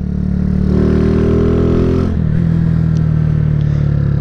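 A 2008 Honda CG 150 Titan motorcycle, lowered at the front, with its single-cylinder engine running close and loud, holding a steady buzzing tone, briefly dipping mid-way, then settling back into a steady pull while riding.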